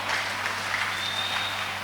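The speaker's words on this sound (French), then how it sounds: "Applaudissez pour la parole." Congregation applauding during a church service, a steady wash of clapping at moderate distance held evenly for a couple of seconds over a faint low hum, with no voices.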